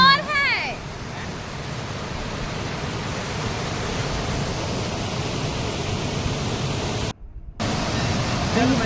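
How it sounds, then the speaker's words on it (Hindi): Steady broadband rushing of a waterfall at a family picnic spot fills the whole stretch, loud and continuous like dense white noise, with a brief dropout near the end and no clear voices over it. "ये झरने की एक एक आवाज़ ना कान इतना सुंदर लग रहा था"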